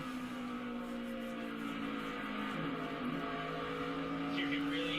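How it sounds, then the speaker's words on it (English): Chevrolet NASCAR race car at Bristol under throttle, a steady droning engine tone that dips and rises, heard faintly and at a distance. "And you can hear the throttle work by Connor Zilic here at Bristol"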